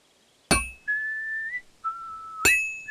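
A horse-calling whistle in Kingdom Come: Deliverance 2: two clear, sustained whistled notes, the second slightly lower, framed by sharp metallic clinks at the start and end.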